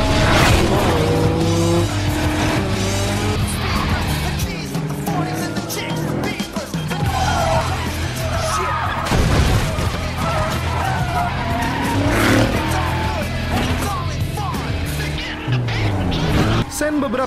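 Cars race in a Fast & Furious film scene, engines roaring and tires screeching in loud skids, with music and voices mixed in throughout.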